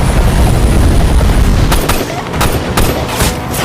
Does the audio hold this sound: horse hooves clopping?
no